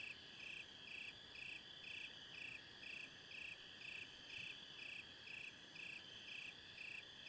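Crickets chirp at night in the DayZ video game, a steady pulsing trill repeating about twice a second over a soft constant background hiss, with no talking.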